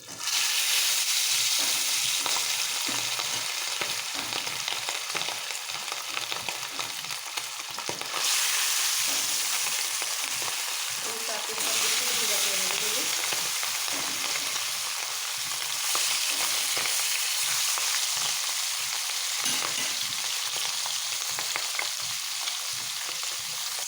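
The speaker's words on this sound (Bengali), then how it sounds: "প্যানে তেল গরম হয়ে গিয়েছে। এরপর দিয়ে নেবো মাছগুলো, হলুদ লবণ মেখে রেখেছিলাম, দিয়ে ভেজে নেব।" Turmeric-and-salt-coated hilsa fish frying in hot oil in a pan, a loud, close, continuous crackling sizzle lasting throughout with occasional stirring and bubbling surges, no talking.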